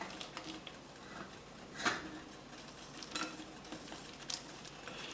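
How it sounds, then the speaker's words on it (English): A spoon stirs orange chocolate melting in a bowl set over hot water, producing faint, quiet scraping and clinking strokes with a few louder taps against the bowl. "we're just going to stir it around until it starts to melt"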